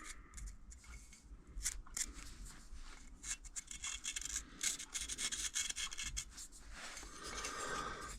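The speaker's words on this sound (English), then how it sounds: "first I have to cut out this this metal that's in here" Metal being cut out of a Yamaha XS650 single-carb intake manifold, a steady rasping, scraping cut with uneven strokes and brief louder bursts, close up and continuous throughout with no talking.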